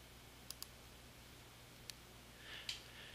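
Computer mouse clicks while working in a Microsoft Excel spreadsheet, a few faint, sharp, close clicks spaced apart, with a brief soft rustle near the end over a quiet room.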